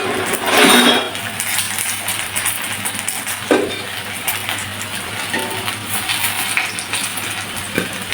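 Metal utensils clink and scrape against an iron wok as fried fish and vegetables are lifted out, a few sharp knocks standing out over a steady kitchen background hiss, close by and without talk.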